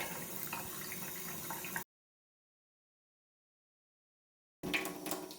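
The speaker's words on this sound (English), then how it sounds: "Let's put it out here, start the tap." Water runs from a kitchen tap while a Keurig Duo part is rinsed of descaler, a steady close splashing stream that cuts out abruptly and then resumes near the end.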